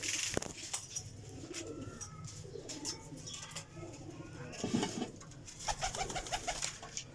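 Several black-speckled and black-mottled Chapra pigeons of old breeds coo softly and repeatedly close by, with occasional chirps and faint rustling in a quiet setting.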